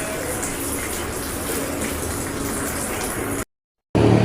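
Weak tap water running steadily while rice is washed at home, a continuous broadband gush that cuts out briefly near the end and then resumes.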